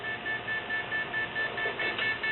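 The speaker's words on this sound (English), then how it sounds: "And we got an alarm for RDX." Steady repeating electronic alarm beeps from an explosives detector flagging RDX after a swab from a car steering wheel, evenly pulsed tones at close range with a faint hum underneath, no talk.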